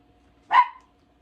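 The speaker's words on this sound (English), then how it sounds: "I hope you're not hearing my dog bark." A single sharp dog bark rings out close by, brief and loud, against an otherwise quiet background.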